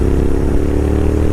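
A 250cc KTM motorcycle idles in a traffic jam at Singhu border, its engine a steady, close, continuous low thrum with no revving.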